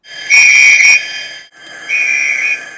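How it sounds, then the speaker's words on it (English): Two sustained model train whistle blasts from a Hornby TTS sound decoder, original speaker then upgraded speaker, the first louder and brighter, the second slightly softer, separated by a brief pause, with a faint electronic hum. "This is the original whistle and the new one."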